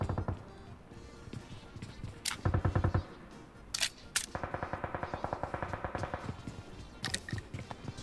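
Rapid gunfire in PUBG Mobile during a sniper battle, bursts of automatic shots and single cracks at a moderate distance, with quieter game ambience between them.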